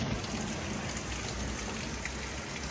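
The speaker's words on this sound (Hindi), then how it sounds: "बहुत तेज बारिश आ रही है बाहर" Heavy rain pours steadily, a dense, constant hiss of drops with no pauses, loud and close throughout.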